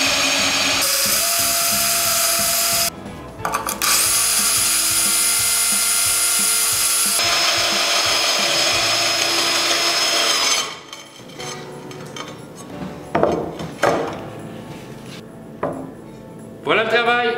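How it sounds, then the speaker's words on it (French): A hole saw cuts through ceramic floor tile while water is added, giving a continuous grinding, rasping whir, close and loud, that breaks into uneven scraping bursts near the end. "On n'appuie pas trop fort, on laisse la scie en porte-pièce travailler."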